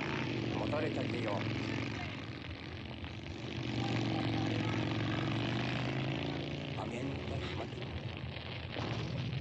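Aircraft engines roar in a dense, continuous propeller drone, loud and close, under overlapping voices and crackling fire noise throughout.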